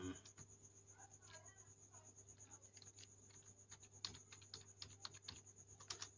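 Someone types a password on a computer keyboard: quick, irregular light key clicks over a steady electronic hum, close and fairly quiet.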